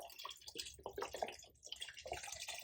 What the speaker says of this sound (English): I'm going to go ahead and add my vegetable stock.